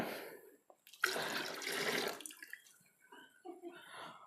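Water splashes and pours into jaggery for making jaggery wine for about a second, followed by softer trickling and drips, close by.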